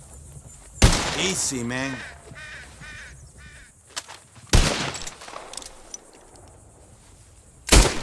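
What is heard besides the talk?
revolver shooting bottles in Red Dead Redemption 2 video game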